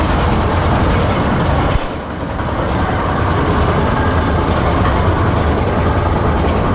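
A roller coaster train at PortAventura rumbles and rattles loudly and continuously while moving along the track toward a lift hill, with a brief dip in the noise partway through.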